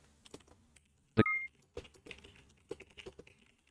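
Several light taps on keys, scattered and irregular, with one sharp electronic beep partway through in an otherwise quiet room.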